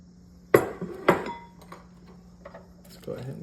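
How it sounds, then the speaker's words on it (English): A utensil stirs crumbled bacon into a mayonnaise mixture in a bowl: two sharp clinks against the dish, then softer scraping and tapping that fade in and out. "Let's go ahead and get that stirred into it so it's evenly distributed in there."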